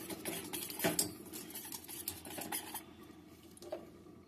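Dry ingredients for a begni batter, including a pinch of baking soda, turmeric and chili powder, are mixed in a bowl with soft, quiet spoon scrapes and light clinks in an irregular rhythm.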